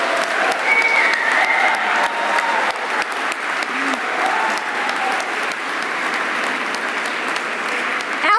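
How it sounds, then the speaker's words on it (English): A graduation audience in a chapel applauds continuously, dense sustained clapping with a faint whistle or whoop riding above the steady roar. "give a warm, applaud, clapping, whooping"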